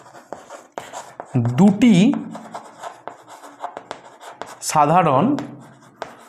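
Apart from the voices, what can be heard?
writing on a board during a math lesson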